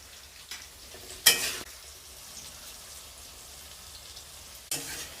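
Oil sizzles steadily at a low level while potatoes fry, with two brief louder crackling bursts partway through.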